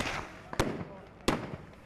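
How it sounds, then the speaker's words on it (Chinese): Fireworks and firecrackers bursting during a daytime student protest on a university campus in Ankara, two sharp loud cracks about a second apart over background crowd noise and voices. "烟火鞭炮四处乱窜"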